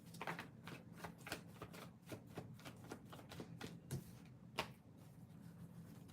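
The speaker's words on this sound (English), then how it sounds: "Let me shuffle a little bit more." Tarot cards being shuffled by hand up close, a quiet run of riffling flutters and soft taps with brief louder snaps, faint and continuous.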